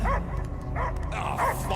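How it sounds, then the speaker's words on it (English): Dogs in the Guardians of the Galaxy video game bark in three quick, close bursts spaced roughly half a second apart, with whimpery yips over a low game rumble. "I hear only barking."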